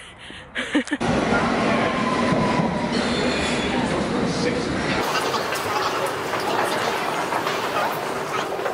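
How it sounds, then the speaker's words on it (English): A London Underground Circle Line train running with a loud steady rumble, wheel squeal and rattling carriages close by, preceded by brief thumps, with voices faintly present under the roar. "This is a Circle Line train via Tower Hill and Embankment."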